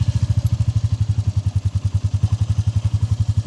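A Royal Enfield Meteor 350 engine idles close and loud, a steady, even single-cylinder thump pulsing rapidly throughout.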